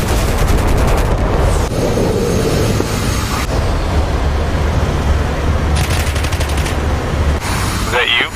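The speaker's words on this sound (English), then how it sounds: "There's a lot of gunfire down there." Bursts of machine-gun fire rattle from the ground below an aircraft in the combat flight game DCS World, repeated rapid volleys over a constant engine drone.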